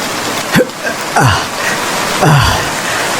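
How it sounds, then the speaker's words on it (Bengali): Cartoon rain pours as a steady, even hiss, with three descending whooshing swoops cutting through it. "দেখো বৃষ্টি পড়ছি"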